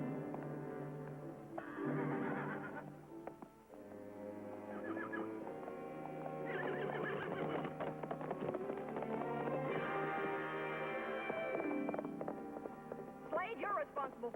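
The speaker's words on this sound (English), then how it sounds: "Get after that horse." A horse in a 1950 Western film neighs in several loud whinnies, with hoofbeats clattering as it bolts away, mixed under shouting voices and dramatic score.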